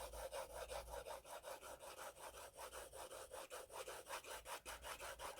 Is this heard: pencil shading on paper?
yes